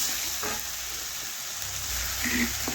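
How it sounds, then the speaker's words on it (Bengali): Mustard and cumin paste sizzles steadily in a hot pan with turmeric and chilli powder, a continuous close frying hiss broken by a few soft spatula scrapes as the masala is stirred for a fish curry. "দিচ্ছি সর্ষে ও জিরে বাটা। একটু নাড়াচাড়া করে মিশিয়ে নেব।"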